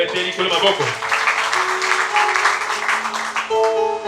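A church congregation breaks into loud applause to acclaim the Lord, a dense wash of clapping that runs for several seconds over a faint musical drone and a few voices.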